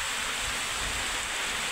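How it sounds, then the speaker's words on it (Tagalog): Steady rain hisses outdoors in a continuous, fairly loud wash during a fishing trip in Sta. Cruz, Talisay, Camarines Norte, with no voices. "Naabot kami ng ulan."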